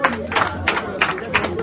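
A crowd at a fufu eating competition cheers and claps in quick rhythmic bursts, the voices and applause loud and close throughout.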